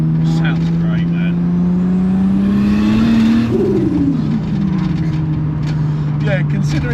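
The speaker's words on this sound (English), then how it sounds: "Sounds like a race car" A Ford Granada with a swapped Toyota 2JZ Supra engine idles with a steady low drone, then revs up briefly and settles back, loud and close, with faint voices in the background.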